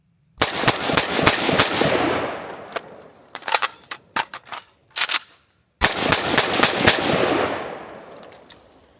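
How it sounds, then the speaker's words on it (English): An ATI AT-47, an American-made AK rifle, fires in loud, close bursts and rapid strings of shots, with short pauses between groups and sharp reports echoing outdoors. "you can see that thing just recoils a lot more than any other AK I've ever fired"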